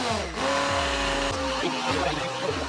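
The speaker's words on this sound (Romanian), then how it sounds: "Și acum iau mixerul și fac totul cremă." A motor-driven blender whirs continuously up close, its pitch rising and dipping as it purees zucchini cream soup.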